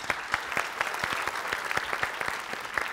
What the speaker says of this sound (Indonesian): Udah tepuk tangan buat Epe ya.